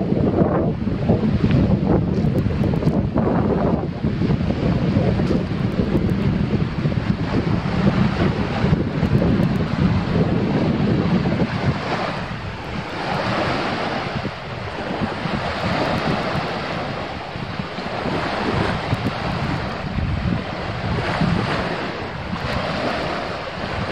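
Sea waves roll onto the shore at Peresyp in September, with gusty wind buffeting the microphone in a continuous loud roar that eases somewhat midway.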